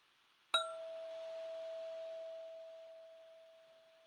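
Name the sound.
bell ringing and fading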